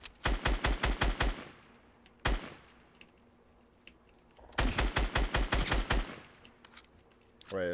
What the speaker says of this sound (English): is there somebody else shooting at me?